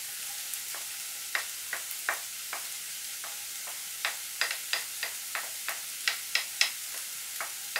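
Bell pepper and aubergine frying in a pan for an aubergine gratin after about ten minutes of cooking, a soft steady sizzle punctuated by many light clicks and taps of stirring.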